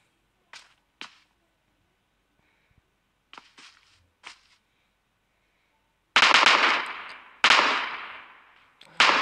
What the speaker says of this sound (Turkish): Bu keskin nişancı mermisi var.